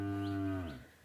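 A calf on a local village dairy farm gives a single close, drawn-out moo that fades away at the end.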